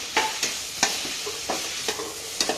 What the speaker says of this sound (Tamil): வெங்காயம், தக்காளி, பட்டை, ஸ்டார் இதெல்லாம் போட்டு நல்லா வதக்கிட்டு அப்படியே என்ன பண்ணணும், தேங்காயையும் போட்டு வதக்கணும்.